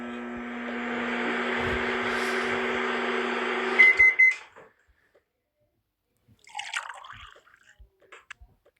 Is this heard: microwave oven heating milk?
yes